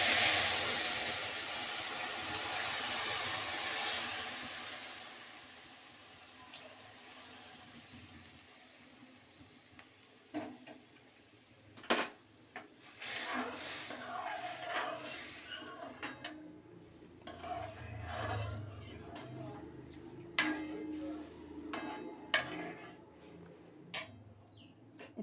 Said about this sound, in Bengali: এবার ভাজা হয়ে গেছে, আমি এর মধ্যে দুধ দিয়ে দেবো।